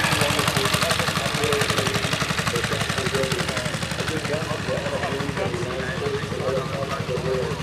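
An International 190 fire truck engine idles nearby with a rapid, even diesel chugging pulse at an outdoor tractor show, loud and steady throughout, while people talk over it.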